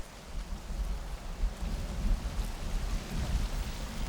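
Rain falls steadily over an air base in a soft, continuous patter, fairly faint and even throughout, with a low rumbling undertone and no voices.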